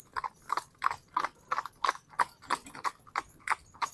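Steady, evenly spaced hoof clip-clops from a horse driven in a pair, about a dozen sharp strikes in a brisk rhythm, close and clear with no talk over them.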